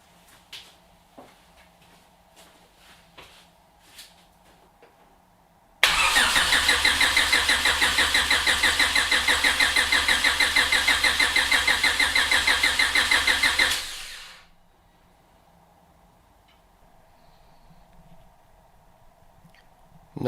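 A car engine, just repaired for an oil pressure fault, is cranked and catches, then holds a loud, steady idle for about eight seconds before shutting off and falling quiet, with faint clicks before and after.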